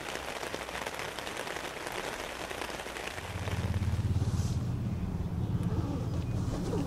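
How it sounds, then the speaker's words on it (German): Steady rain patters down at a motorsport race track during a 24-hour race, a dense even hiss that swells into a heavier, louder downpour with a low rumble partway through. "Als es weiter regnet"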